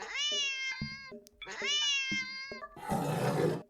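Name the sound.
cat reacting to laser pointer dot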